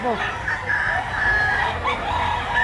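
Native chickens cluck and a rooster crows amid a busy, noisy background, with several birds calling over one another at moderate distance.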